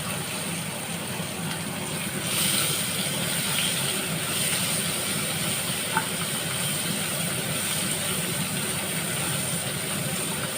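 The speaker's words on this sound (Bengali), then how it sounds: "পেঁয়াজটা একটু ভালো করে ভাজা হবে।" Chopped onion fries in hot oil in a pan, giving a steady broadband sizzle and crackle that stays even throughout, with a faint tone hanging above it and no talking.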